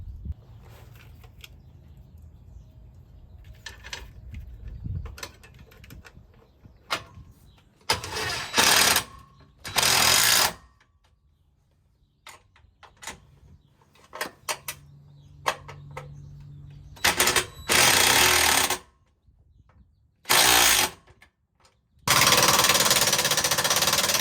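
Drill bores holes for a side step bracket on a Mercedes Sprinter van, with several loud sustained drilling bursts of a few seconds each separated by quieter handling and clanks.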